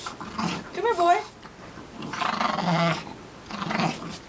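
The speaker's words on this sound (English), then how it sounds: "The white dog's too noisy." Dogs growl and grumble in rough, throaty bursts while play-fighting, close and fairly loud, with a voice talking over them at times.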